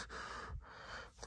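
Heavy, loud breathing close up during a tense haunted-doll horror game scene, with two rough gasping breaths of about half a second each and a shorter third at the end.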